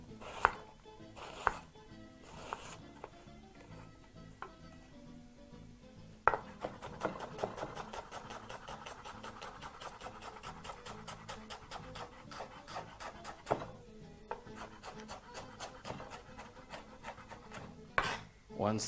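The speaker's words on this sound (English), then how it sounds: "I'm going to be using half a white onion for this recipe. And just proceed to chop that fine." Half a white onion being chopped finely with a sharp knife on a board: a fast, steady run of close, crisp taps that keeps going for many seconds, with a few short pauses and louder knocks between bursts.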